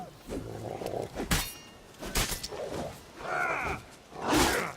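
Ragged wild dogs growl and snarl in The Witcher 3 during a White Orchard hunt, several low rough bursts coming close one after another over a noisy game background.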